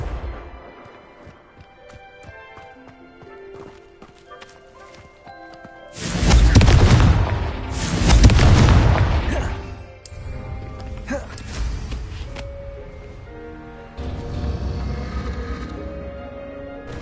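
Confringo fire spells cast in Hogwarts Legacy, loud booming blasts rising twice in quick succession over a bed of music and game effects, with later softer impacts.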